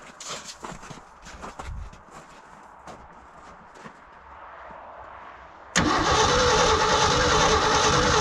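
An old Ford dump truck engine cranks without catching after 20 years of sitting, with some clattering and handling noises first, then a loud, steady grinding churn of the starter from about two-thirds of the way in to the end.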